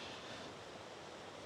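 A small waterfall beside the beach at Garwick Glen, Isle of Man, gives a faint, steady rushing hiss, continuous and distant, mixed with sea and wind noise.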